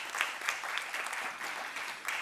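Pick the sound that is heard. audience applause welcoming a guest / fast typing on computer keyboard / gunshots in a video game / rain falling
audience applause welcoming a guest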